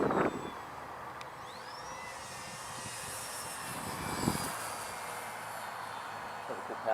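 A ParkZone Artizan electric RC airplane flies overhead, its motor giving a steady high whine that drifts and shifts pitch over several seconds, distant and moderately loud above faint background noise.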